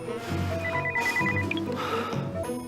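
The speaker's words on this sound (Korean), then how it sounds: "전화가 울리고 잠깐 타임." A telephone rings in a brief repeated electronic trill, moderately loud and close, heard over a soft indoor background.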